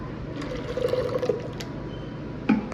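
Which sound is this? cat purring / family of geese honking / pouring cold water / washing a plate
pouring cold water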